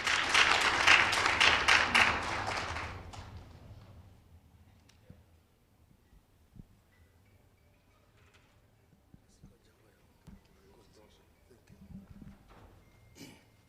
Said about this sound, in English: A round of applause to him as we welcome him.